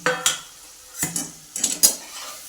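Tomato and roasted chillies being sautéed in a pan, heard as a few separate metallic scrapes and knocks of a spoon against the pan over a faint sizzle, close by and without any voice.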